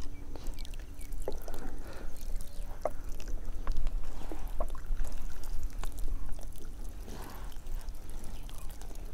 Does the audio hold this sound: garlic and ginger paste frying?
no